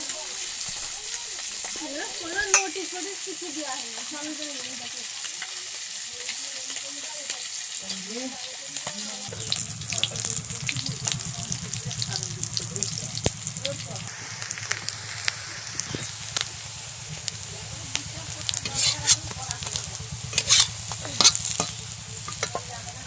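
Fish roe being mixed by hand or spoon with gram flour and sugar in a bowl: faint, steady soft stirring and squelching under a continuous background hiss, with scattered small clicks.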